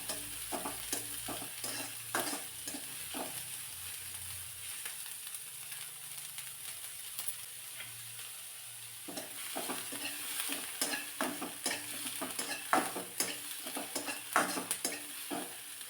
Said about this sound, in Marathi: पटकन कांदा भाजला जावा यासाठी अगदी थोडंसं बारीक मीठ घालायचं, म्हणजे लगेच कांदा परतून होतो.